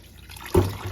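Cloudy rinse water splashes as it is poured out of a bowl while washing homemade butter, a brief liquid gush close by after a quiet moment.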